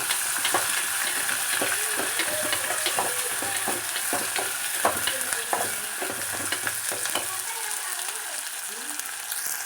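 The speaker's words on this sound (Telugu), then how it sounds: "రెండు మీడియం సైజు ఉల్లిపాయలండి ఇవి కూడా వేసుకొని వేయించుకోవాలి చూడండి ఈ విధంగా వేయించుకోవాలి" Two medium chopped onions fry in a pan for gongura red-chilli chutney, giving a continuous close sizzle broken by frequent clicks and scrapes from stirring.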